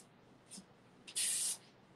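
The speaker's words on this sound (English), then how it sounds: "a product like Miss Mess, where you just sort of spraying it in the hair" Texturizing hair spray, a product like Miss Mess, is sprayed into textured, curly hair in a short, loud hiss lasting under half a second, after a couple of softer brief puffs.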